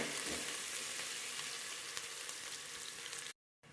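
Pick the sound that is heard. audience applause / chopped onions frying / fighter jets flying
chopped onions frying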